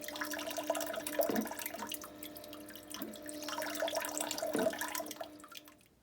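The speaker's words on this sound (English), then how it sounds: "So I just activated the cleaning mode. You can kind of see how the nozzle moves and how it does a self-clean." Electronic bidet toilet seat running its nozzle self-cleaning cycle, a soft trickle and spray of water with two brief louder gurgling bursts, quiet and close, fading out at the end.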